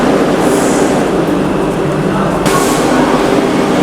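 Vande Bharat Express train (Secunderabad to Tirupati) slowing after the emergency chain was pulled, a loud steady rumble of the moving train heard from onboard, continuous throughout with a slight shift in tone midway.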